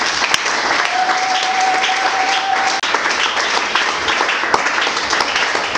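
A crowd applauds steadily, dense sustained clapping with a few scattered cheers, loud and close, filling the whole stretch without talk.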